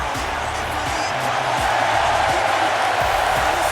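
Arena crowd cheering in the WWE 2K19 wrestling video game, a steady dense roar of voices with occasional thuds, heard under a commentator's voice.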